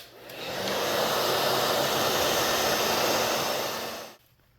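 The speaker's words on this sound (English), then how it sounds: "I'm going to speed the dry time up here too with the hair dryer." A hair dryer blows steadily at close range while drying an HO scale model kit, a loud continuous whooshing roar that holds for about four seconds and then cuts off abruptly.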